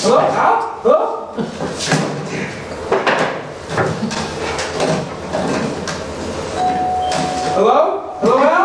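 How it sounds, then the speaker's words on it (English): A doorbell chimes in a house, a short tone heard inside a busy indoor scene, with people talking over it and doors and other household clatter around it. "That's the doorbell, dear."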